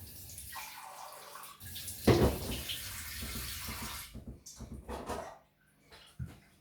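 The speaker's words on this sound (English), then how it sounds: "what you're doing then is you're adding a little bit of water," Cold water poured into a bowl of gram flour and plain flour for chicken pakora batter, a short splashing pour near the middle amid quieter kitchen handling and mixing sounds.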